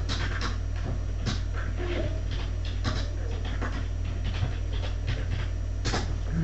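Rapid, steady panting from a dog in a Minecraft-style video game repeats throughout over a constant low hum, with soft breathy bursts and no voices.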